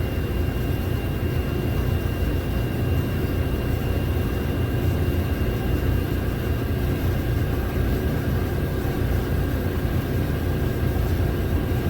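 A 2012 Ford Transit van engine idles steadily, a constant low rumble with a faint electronic whine on top, no voices, holding even for the whole stretch.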